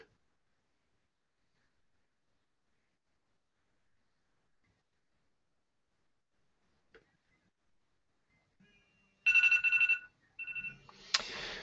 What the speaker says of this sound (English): That's my phone alarm,